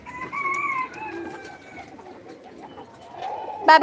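Chickens, a hen and a rooster, clucking and calling nearby, with a short burst of louder squawking at the end.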